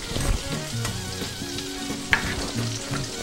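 Shrimp frying in a pan in a Cajun-style shrimp and grits dish, a steady close sizzle with a few light knocks and a faint tonal hum in the background, with no voices.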